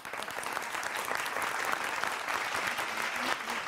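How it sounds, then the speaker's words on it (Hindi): A crowd at a political gathering claps in a brief, dense burst of applause that holds steady at full strength throughout, with no voices over it. "ताली बजाओ एक बार।"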